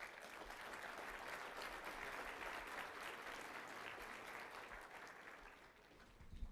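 Sustained applause from a Bitcoin conference audience, a dense even clatter of many hands clapping that fades slightly toward the end.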